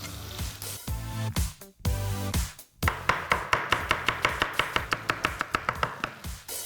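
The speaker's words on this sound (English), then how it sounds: "2 onions and I want to thinly slice them" A knife thinly slicing onions on a board, cut strokes first in brief bursts and then in a steady run of about fifteen close, crisp chops, with no voices.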